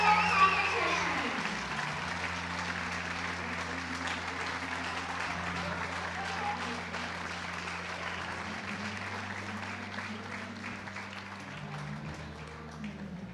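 Sustained audience applause for athletes at a U.S. Amateur bowling stepladder finals, a steady wash of clapping from a large indoor crowd lasting throughout, with a low hum underneath.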